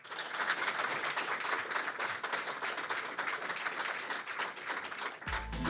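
Studio audience applause closing a live real-estate radio broadcast from Annecy, a dense, even patter of clapping sustained for several seconds before cutting off abruptly near the end.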